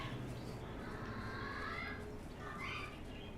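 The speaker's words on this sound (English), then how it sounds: "those are parrots down there" Parrots in the video game Kentucky Route Zero, faint chirps and squawks drifting over a steady rumbling ambient bed, seemingly at a distance.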